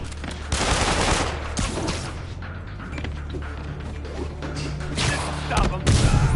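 Heavy gunfire in a video game battle, dense overlapping shots and booms under ongoing game voices and music, loud and continuous with a louder burst near the end.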